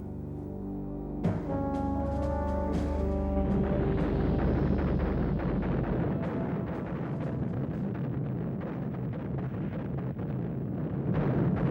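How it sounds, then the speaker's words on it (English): A massed artillery barrage opening a Soviet offensive at the Seelow Heights in 1945: after a brief tonal drone, a dense, continuous low rumble of heavy gunfire sets in, loud and sustained, with scattered sharper thuds throughout. "The awesome barrage that heralded the start of Zhukov's offensive began at 3 a.m. on the morning of April the 16th."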